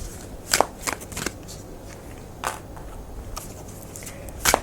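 A deck of tarot cards is shuffled in several short, crisp riffling bursts spaced a second or so apart over a soft room hiss.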